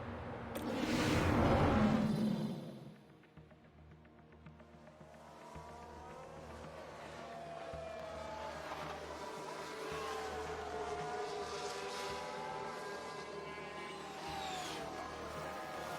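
A Formula 1 car from the 1992 season spins out in an F1 Manager racing game: a loud burst of tyre and engine noise up front, then a steady hum of engines and crowd ambience with sliding, squealing tones.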